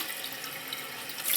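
Water rushes and splashes steadily in a toilet bowl as it flushes, a close, continuous broadband wash that swells louder toward the end, with no talking.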